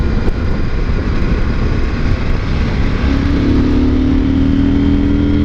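A CFMOTO 800 MT motorcycle engine pulling under load, a loud steady roar with a rising tone creeping in toward the end, close up and alone.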